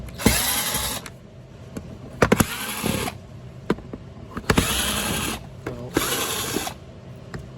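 A handheld power driver backs the screws out of an Oreck XL XL9100HG upright vacuum with a jammed fan, whirring in four short, close bursts separated by clicks and small handling knocks.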